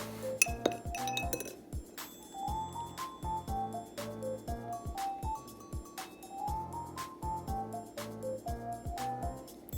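Metal spoon clinking against a glass while stirring a citric acid and baking soda solution, a run of bright, evenly spaced ringing taps over a low musical background.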